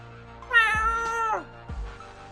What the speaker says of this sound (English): the cat reaches out with two paws to try and capture your hand